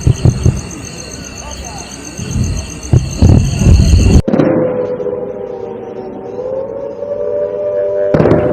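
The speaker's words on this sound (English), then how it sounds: "You can hear air raid sirens and explosions" A long, wavering air raid siren wails steadily after a burst of loud explosions and noisy commotion during a drone attack in Samba, Jammu and Kashmir, sounding distant and sustained.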